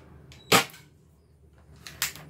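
Two sharp snapping shots from a spring airsoft sniper rifle ring out about a second and a half apart during a test firing, each a crisp close pop in an otherwise quiet space.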